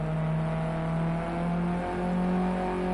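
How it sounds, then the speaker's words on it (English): A Ginetta GT5 race car in Project CARS 2 braking hard into turn one at Oschersleben, its engine note dropping through steady droning harmonics, loud and continuous throughout. "Denzamo brakes hard down into turn 1"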